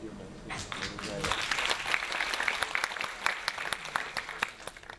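An audience at an international film festival applauds in a hall, crisp claps rising after a moment of speech and continuing steadily, moderately loud.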